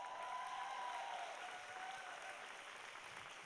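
A congregation claps for a church band at a Sunday women's retreat service. The steady applause sounds faint and distant, with a held musical tone above it that gradually fades.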